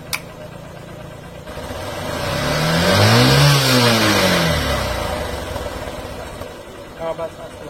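A Royal Enfield Bullet motorcycle engine rising in a revving sweep then falling back, fairly close, with people talking nearby throughout.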